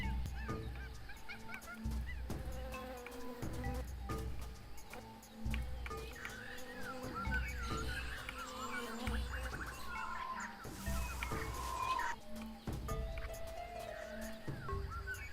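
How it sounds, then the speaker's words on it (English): A noisy jungle scene in a platformer video game, with layered bird calls, honking, and buzzing insects blending into a dense, continuous, mid-level loop with no speech. "That jungle sure is noisy. Bees, birds."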